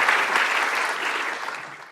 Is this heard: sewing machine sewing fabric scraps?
no